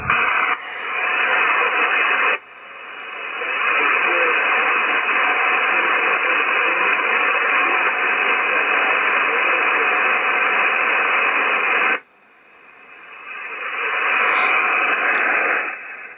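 Loud, steady radio static from an Icom IC-725 receiver with digital noise reduction off hisses continuously, cutting out abruptly twice, then swelling back in with a faint tone near the end.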